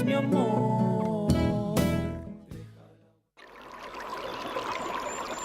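Water pours and trickles steadily in a Chilean radio advert for Aguas Trayén purified water, coming in after a stretch of music and sustained close and fairly loud to the end.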